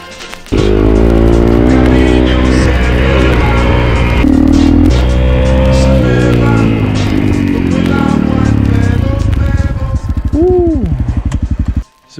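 A rented dirt bike rides mountain trails, its engine roaring loud and close with a steady buzzing drone, rising and falling as the throttle changes before cutting out at the end.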